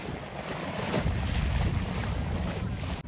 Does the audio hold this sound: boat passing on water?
yes